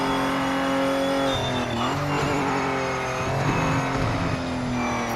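A hypercar engine in the racing game Project Motor Racing, droning loud and steady with high harmonic whine, the pitch sagging and then climbing again as the car lifts and reaccelerates, with no talk over it.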